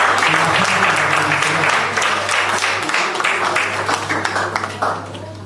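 An audience at a talk on setting and reaching goals bursts into applause, a dense wash of many hands that gradually thins and tapers toward the end, with a steady low hum underneath.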